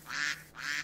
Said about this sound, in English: Whoa, oh, hi, duck. That's cute.